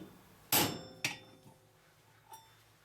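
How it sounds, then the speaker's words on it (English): A hammer strikes a cold chisel to bend metal: two sharp, ringing metallic blows close together, a faint tap, then a softer final strike, with quiet pauses between them. "I'll angle the cold chisel a little bit towards that straight side."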